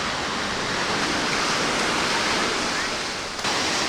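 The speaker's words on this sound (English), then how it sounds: "the waves are acting up pretty nicely if you like to play in the waves there." Ocean surf breaking on a sandy Maine beach mixed with ground shell, a steady broadband roar of waves filling the whole stretch, loud and continuous with a brief dip near the end.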